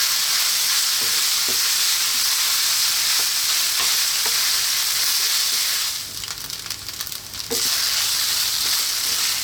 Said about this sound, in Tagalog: lulutuin ko yung ating rice ng 5 minutes